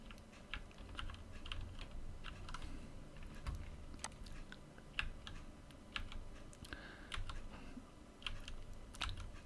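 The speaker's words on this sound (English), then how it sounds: "now when I press the keys" Computer keyboard keys pressed in irregular clusters of soft, close clicks, quiet and without talk.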